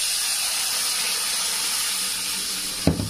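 Water poured into a hot pan of fried chili powder and spices for a Japanese puti fish curry with potatoes hisses steadily and evenly, ending in a sharp clunk.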